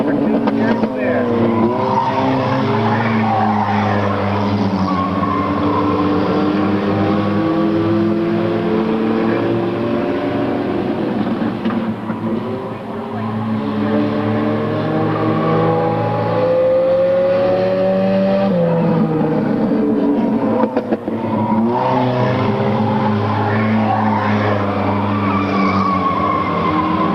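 Race cars, including a Volkswagen, lapping a track at a 1998 race, loud engines revving and rising and falling as cars pass close by, continuous throughout with an announcer talking over them.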